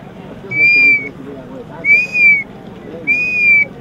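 A handmade bird-call whistle is blown in three clear, drawn-out piping notes, each about half a second long and evenly spaced, close and loud over a faint low murmur.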